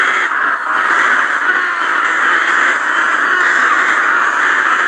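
Crows caw nonstop over millet fields, a dense, loud, continuous chorus of harsh calls blending into one steady wash with no pauses.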